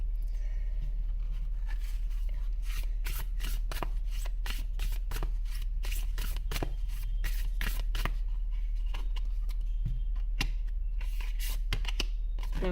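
Cards from a tarot or oracle deck are drawn and shuffled close up, a run of quick soft riffles and papery flicks with short pauses, fairly quiet.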